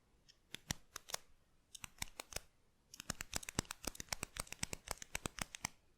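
Uni-ball Signo Impact 207 gel pen from Japan clicked over and over, sharp close ticks in two bursts: a sparse handful at first, then a fast, steady run of crisp clicks with no talk.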